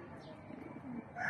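A racing pigeon gives soft, low cooing inside a loft, faint and brief beneath someone speaking close by.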